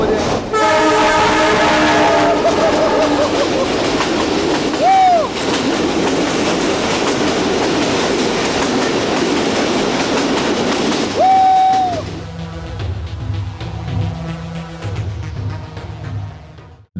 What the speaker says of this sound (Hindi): आवाज़ करीब आ रही है, ट्रेन काफ़ी करीब आ गई है मेरे।